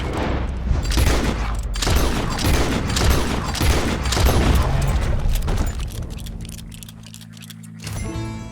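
Gunshots in Red Dead Redemption 2 ring out as a rapid volley of loud cracks amid a noisy outdoor scene, fading toward the end, with no talk over them.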